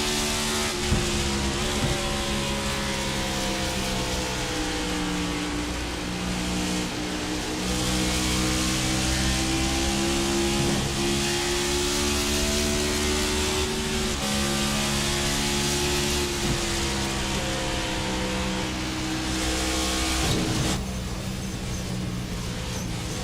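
Race car engine in iRacing at Darlington, loud and close, throttle rising and falling in long sweeping pitch arcs through the corners with brief lifts and gear changes, steady with no talking.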